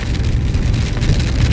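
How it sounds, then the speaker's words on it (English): Heavy rain pours down in cold weather at Camaret in Brittany, Finistère, during a motorcycle trip. It makes a dense, steady roaring hiss that stays loud and close the whole time, with no voices. "this rain is now very bad, very quickly."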